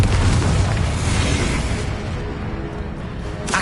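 A Confringo blasting spell from Hogwarts Legacy bursts loudly near the start, a dense booming explosion whose rumble holds steady, then thins a little before a second burst flares at the very end.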